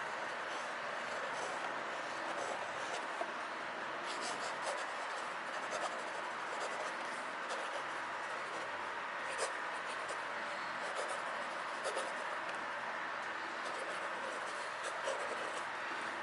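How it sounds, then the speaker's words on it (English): Parker fountain pen with a hooded nib scratching steadily across paper, a soft continuous writing rasp with faint strokes, close and quiet. "a pen you paid this little for actually writes so well"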